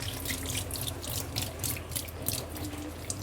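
A kitchen sink tap runs steadily as food is drained in a restaurant kitchen, a soft continuous splashing and hiss of water with no talk over it.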